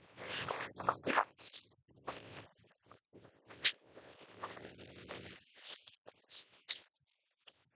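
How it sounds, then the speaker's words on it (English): Soft, quick riffling and papery slaps of tarot cards being shuffled repeat in bursts, close up and quiet, with brief pauses between shuffles. "let's shuffle our tarot cards"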